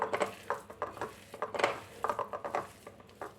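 Bread pakoda filling being mixed by hand in a bowl, soft irregular clinks and scraping knocks arriving in quick uneven bursts, close and fairly quiet, with no talking.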